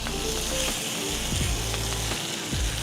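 Cajun turkey sizzling in oil on a Blaze griddle, a loud steady crackling fry with a few scraping spatula strokes over it.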